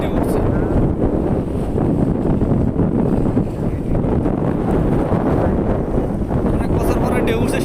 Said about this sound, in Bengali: অনেক বাতাস, খাড়া থাকতে পারতাছি না